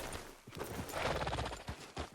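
Horse hooves clip-clopping at a steady riding pace in the video game Red Dead Redemption 2, a close rhythmic series of thuds with light background noise and no talk.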